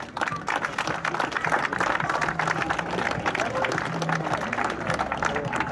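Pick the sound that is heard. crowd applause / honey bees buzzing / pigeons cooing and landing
crowd applause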